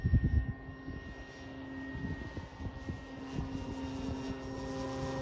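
Continuous droning engine of a Hangar 9 Cessna 182 radio-controlled model airplane with a 95-inch wingspan overhead, steady and moderately loud, with faint rumbling wind beneath and no voices.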